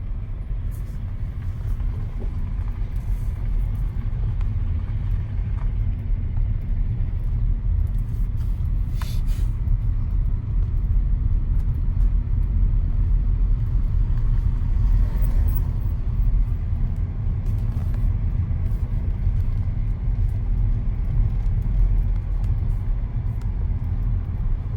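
A car drives along a road behind corporate offices, giving a steady low rumble of engine and tire noise with faint scattered background sounds and no talk.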